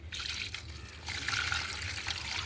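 Homemade fruit juice poured onto ridge gourd plants in a garden, a steady close trickle and splash of liquid running continuously with no talking.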